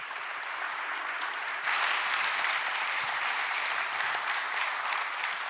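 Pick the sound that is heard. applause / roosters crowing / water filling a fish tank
applause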